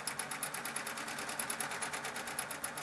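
A Baby Lock serger stitches a decorative effect with heavy thread, giving off a rapid, evenly pulsing mechanical chatter, fairly soft and steady throughout.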